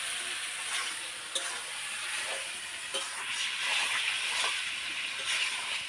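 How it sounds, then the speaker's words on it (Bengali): Country chicken meat hits spiced oil in a wok and sizzles with a steady, bright hiss, with occasional soft clinks and stirs near at hand and no voices. "বন্ধুরা মশলাটা ভাজা হয়ে গেছে, এখন মাংস দিয়ে দিলাম"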